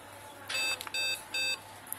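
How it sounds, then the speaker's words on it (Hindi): An ECS H61 motherboard with no display gives three sharp, steady electronic beeps in a regular rhythm, close and clear over a quiet background hum, with no voices. "बीप बज रहा है"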